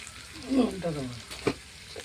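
Banana flower tipped into hot oil in a home kitchen pan, giving a brief burst of frying sizzle with stirring clatter, while a voice talks nearby.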